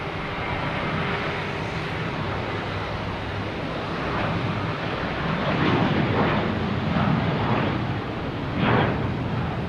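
A KLM airliner arriving from Amsterdam at Boston Logan Airport rumbles past with a steady broadband jet roar, growing somewhat louder toward the end with brief surges, no talk over it.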